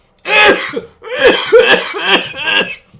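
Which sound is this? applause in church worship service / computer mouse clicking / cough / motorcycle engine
cough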